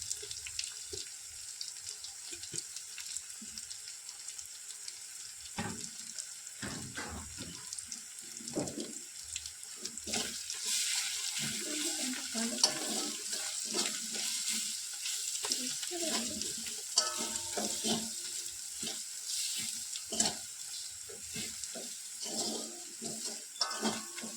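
Water poured into spices frying with onions in a pan for chana chicken, giving a steady bright sizzling hiss with scattered clinks and stirring knocks throughout, no voices.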